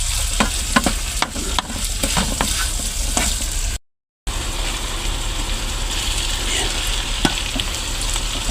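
Eggplant adobo frying in a pan, stirred steadily with a utensil: a continuous loud sizzle with scraping clinks throughout and a short gap midway.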